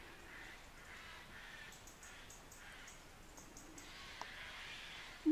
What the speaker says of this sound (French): Il y a des corneilles qui gueulent.